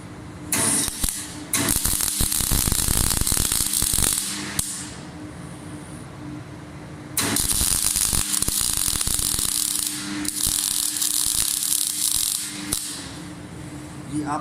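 A wire welding plant welding metal, giving a loud, steady crackling hiss in two long bursts with a quiet pause between them, close up.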